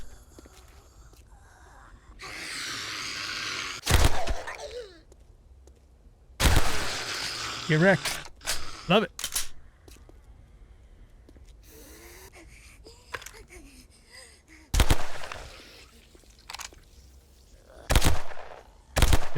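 A new weapon fires in 7 Days to Die, single sharp crisp shots spaced several seconds apart, loud against a quiet background, with someone talking between the shots.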